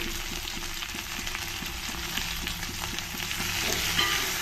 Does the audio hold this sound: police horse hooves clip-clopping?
no